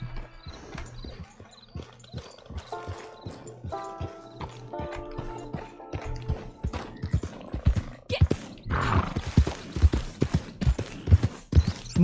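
Horse hooves clip-clop steadily up close in Red Dead Online, a rhythmic run of hoofbeats that grows louder and busier toward the end, with a short musical phrase sounding early on.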